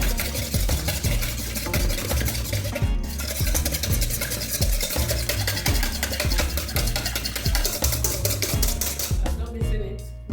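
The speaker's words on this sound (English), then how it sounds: "I will mix it now. So this is how you mix it." Cake batter and sugar stirred by hand in a bowl, with a continuous, rhythmic, close scraping and whisking that stays loud and even throughout and pauses briefly partway through.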